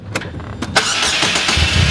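A Polaris Slingshot's engine cranks and catches in a few short bursts, then settles into a steady, close, fairly loud idle.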